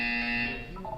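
A steady electronic buzzer tone from the Portal 2 video game sounds loud and alone for about a second, holding a constant pitch before fading slightly toward the end.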